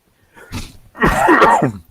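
A single loud sneeze up close, preceded by a short sharp intake of breath.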